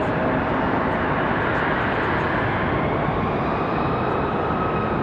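Airliner taxiing toward the end of the runway at Raleigh Durham International Airport, a steady, loud roar of jet engines without a break.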